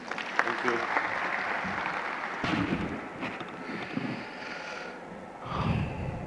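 A crowd at the closing ceremony of an international environment and sustainability summit applauds, a dense patter of clapping that swells and dips over several seconds.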